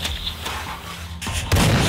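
Explosion in the video game Dead Effect 2: a broadband blast bursts in at the end, following a stretch of steady rumbling game noise, loud and close.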